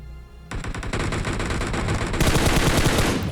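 Sustained rapid automatic gunfire in PUBG Mobile, loud and close, firing continuously in dense bursts after a brief quieter opening.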